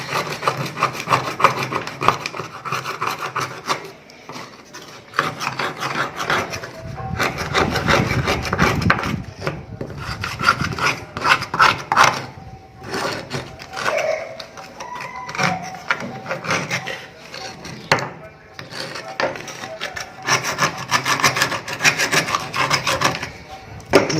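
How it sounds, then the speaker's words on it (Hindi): A sharp object is rubbed and scraped hard against a surface to clear crusted deposits, giving a continuous gritty rasping with uneven strokes and short pauses, close and loud throughout. "किसी नुकीली चीज़ से भी आप इसको रगड़ कर साफ कीजिए"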